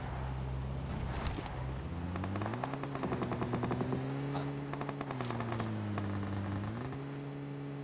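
Rapid gunfire in a squad-based video game shooter, bursts of sharp shots crackling over a droning in-game tone, loud and close with no talking.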